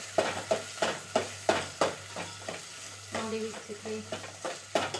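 Chopped onions and a large tomato for chicken biryani fry and get stirred in a pan, with repeated spoon scrapes in a steady rhythm over a continuous sizzle and a brief spoken line.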